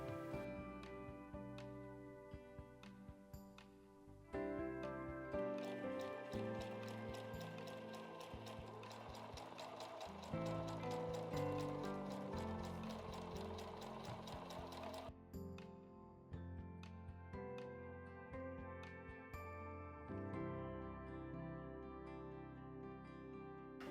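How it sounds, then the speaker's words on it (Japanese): A sewing machine runs steadily for the whole stretch, stitching two pieces of fabric for a round bag. Its mechanical whir and ticking sit under a continuous bed of music, with no one talking. "布の端を隠すようにもう一度ミシンで縫います。"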